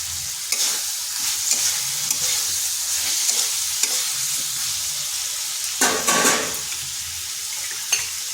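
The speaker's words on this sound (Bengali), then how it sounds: "এই মশলাটাকে একটু কষে নিচ্ছি।" Spice mixture with potatoes, chopped tomato and ginger paste frying in a pan for vegetarian daliya khichdi, a steady close sizzle broken by occasional stirring scrapes and clatter.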